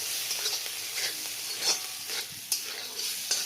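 Onion, ginger and green chili sizzle in oil in a pan while a spoon stirs them, a steady crackling hiss broken by a few sharp scraping clinks against the pan, close and alone.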